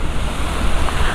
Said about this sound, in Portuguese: Principalmente nesse momento de chuva.